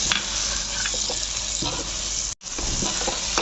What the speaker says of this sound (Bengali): এবারে আমি টমেটো আর কাঁচা লঙ্কাটা দিয়ে দিলাম আবার আমি এটাও কষাবো